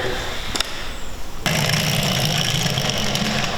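Mangal military ground drone driving at minimum speed, a steady mid-pitched motor hum and whine that starts after a brief click and continues evenly, fairly loud and close.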